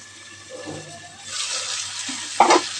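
Pieces of a large fish are stirred with spices in a hot pan, first a faint scraping, then a rising steady sizzle joined by a short clatter of the spoon near the end.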